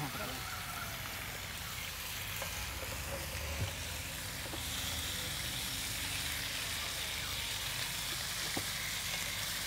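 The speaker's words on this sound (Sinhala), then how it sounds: "ඔහොම ටිකක් බැදෙන්න අරිනවද? ඔව් චුට්ටක් බැදෙන්න අරින්න ඕනේ." Chopped fish pieces fry in a non-stick pan with a steady, close sizzle and occasional soft pops and stirring, while voices talk quietly over the cooking.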